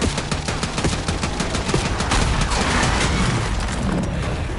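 Dense, loud gunfire and booming shots in the Black Ops 6 video game campaign, a continuous barrage of rapid cracks and blasts with rumbling impacts and no talk.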